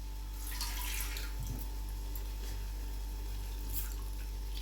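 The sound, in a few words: pouring water into the kofta curry pan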